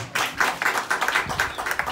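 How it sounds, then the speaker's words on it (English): Audience applause at a Juneteenth community gathering, a steady crowd of hands clapping at moderate volume with dense, overlapping claps and no voices. "Let's please give him another round of applause."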